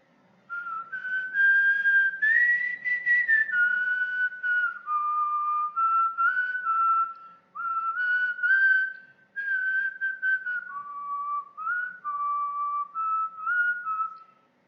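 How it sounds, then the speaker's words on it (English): Someone whistles a tune alone, clear and close, with a bright melody that rises and falls in phrases separated by short breaths. "I think I nailed that with the whistle"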